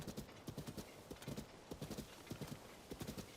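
Rapid clip-clop of a horse galloping in Zelda: Tears of the Kingdom, steady hoofbeats pounding in a quick rhythm from start to finish, with a brief whinny and game ambience underneath.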